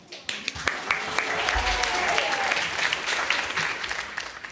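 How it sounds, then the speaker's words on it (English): An audience applauds a young storyteller at a ghost-story fireside gathering, with a few scattered claps quickly swelling into a steady, moderately close round of clapping that continues to the end. "please give a warm round of applause to Sophia"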